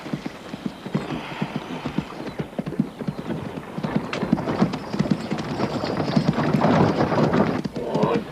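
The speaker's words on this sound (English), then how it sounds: "I know those hoofbeats anywhere." Horse hooves clop in a quick, steady rhythm, growing louder as they approach, over a rough background hiss.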